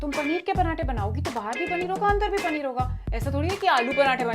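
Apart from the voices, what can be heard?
No distinct noise like a dog, phone or traffic.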